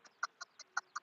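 A small chick peeps six times in quick, evenly spaced chirps, close and fairly quiet.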